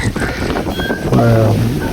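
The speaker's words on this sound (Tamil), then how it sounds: "இவ்வளோ காற்று பாருங்க" Strong wind gusting across Dhanushkodi beach with surf nearby, a steady rushing roar buffeting the microphone throughout, swelling louder in the second half.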